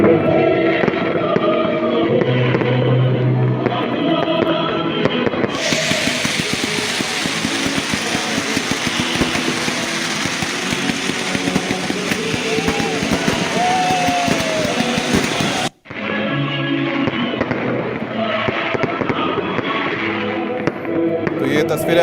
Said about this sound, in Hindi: लोगों ने जमकर आतिशबाजी की